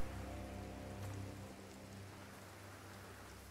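Steady rain falls in the video game Sekiro Shadows Die Twice, a continuous soft hiss of drops under a faint low hum, even and unbroken, with no talking.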